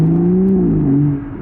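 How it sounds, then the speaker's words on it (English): A BMW 440i fitted with an M Performance exhaust idles close by with a deep, steady engine hum that dips slightly in pitch and eases off toward the end. "this car is now equipped with a BMW M Performance exhaust as well, as you guys can hear"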